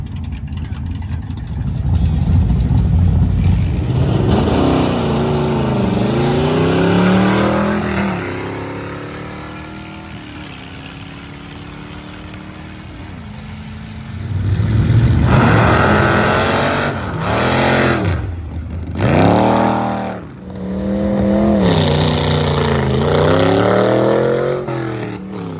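Drag racing car making a run at a drag strip event, engine roaring and repeatedly revving up and dropping through gear changes, with a quieter idle stretch before loud rising and falling bursts of throttle.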